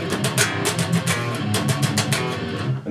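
An electric guitar plays a loud, chugging riff with a thick SLAB-style tone, the palm lifted off between the muted notes so the strummed hits ring out in a steady, driving rhythm with no talking.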